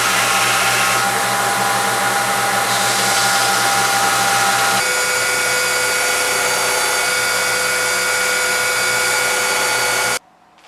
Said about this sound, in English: This is fairly easily accomplished on the grinder.